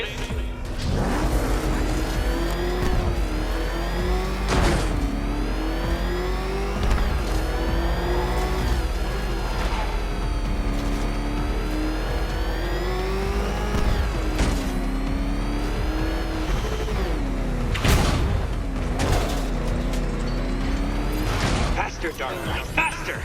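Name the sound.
Batmobile engine racing in Batman: Arkham Knight video game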